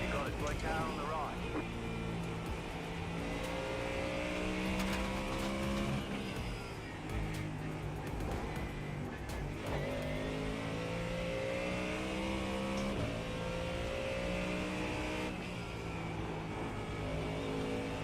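Race cars in a Nürburgring endurance racing game rev and shift as a rival car draws alongside, engine notes rising and falling with occasional tire squeal, while a voice talks throughout.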